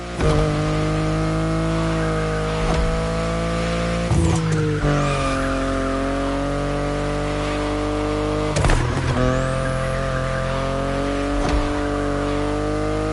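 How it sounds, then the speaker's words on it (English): A BMW i8 drives in The Crew, its engine holding a steady, loud tone that shifts pitch at each gear change, with short tire squeals and skids breaking in at a few points. "The BMW i8 is a car that stands out from the crowds"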